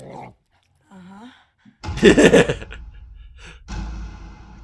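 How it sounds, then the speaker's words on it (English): Dog ripping into a rat roach in a Fallout trailer, loud snarling and tearing growls in a short violent burst, with a person gasping before it and scattered sounds after. "The dog just ripping into the rat roach."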